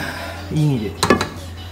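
A metal cooking pot, likely a pressure cooker, is pulled out of a home kitchen cupboard: a short burst of close metallic clanks and knocks, preceded by a brief voiced murmur, over a steady low hum.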